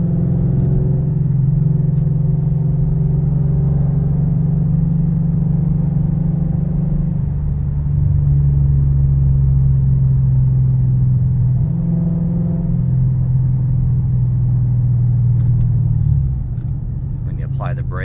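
A modded 2012 Ford Mustang Shelby GT500 rumbles while driving, a loud, close, deep engine drone that holds steady with a few shifts in pitch as the car cruises.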